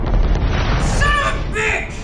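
Weapon fire from a space battle in The Expanse TV show plays as a deep, loud rumbling boom with tonal sci-fi effects layered over it, while voices talk throughout.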